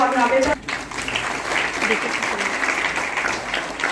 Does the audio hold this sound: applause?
yes